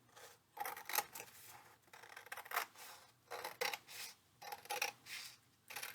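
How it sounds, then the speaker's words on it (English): Scissors snip through two layers of folded paper held together for a heart-shaped Valentine basket, a quick run of crisp, close cuts in uneven bursts with short pauses between them. "hold them tight, and cut them both at the same time"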